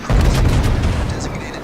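In World of Warships, a battleship fires a heavy armor-piercing salvo at a Kongo-class battleship. One deep, booming cannon blast lands at the start and rumbles down over the next second and a half.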